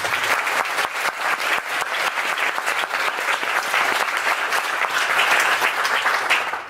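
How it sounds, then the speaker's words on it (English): A meetup crowd applauds a speaker, with sharp individual claps at first building into dense, steady applause that swells slightly before fading at the end. "So let's have another round of applause for Gia."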